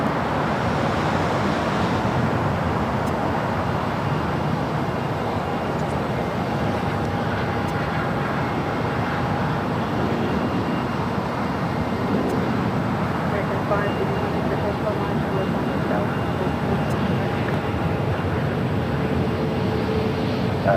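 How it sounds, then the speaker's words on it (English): A United Airlines 737-900ER jet takes off at LAX, its steady, loud engine roar filling the scene without a break and blending with broad airport background noise throughout. "Next takeoff is United Flight 1701 heading to Baltimore, Maryland, a 737-900ER"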